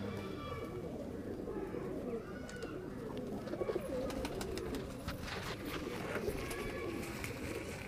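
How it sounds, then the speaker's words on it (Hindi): A Malwai pigeon coos repeatedly up close, soft rounded calls repeating across the clip amid wing flutters and background room noise. "मलवाई कबूतर है ये"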